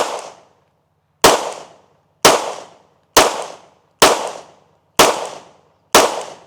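Seven sharp, loud pistol shots from a Canik Mete MC9 Prime 9mm at an outdoor range, fired at roughly one-second intervals, each a crisp crack with a quick decaying tail and silence between.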